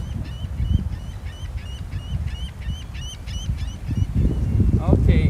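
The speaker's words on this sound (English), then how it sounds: "You hear the seagulls." Seagulls call repeatedly near the Blue Water Bridge in Michigan, a series of short squawks carrying over low wind and water rumble, with a louder burst near the end.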